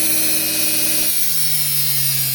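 A conical log splitter's electric motor runs up toward speed, a steady mechanical drone that shifts partway through into a lower, stronger hum, close and continuous with no talking.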